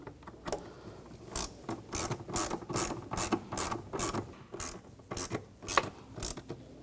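Rapid bursts of ratchet clicking from tightening the two screws on the mass airflow sensor of a 2009-2013 BMW 328i xDrive, close and fairly loud, in several quick runs with brief pauses between them.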